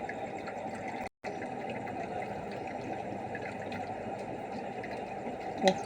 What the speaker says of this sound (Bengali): গাইস, আমি যে ফ্রেশ ওয়াশটা এনেছিলাম সেটা দিয়ে এখন আমি মুখটা ধোবো